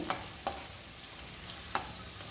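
Crushed ginger fries in oil for egg fried rice, giving a faint, steady sizzle broken by three sharp taps a second or so apart.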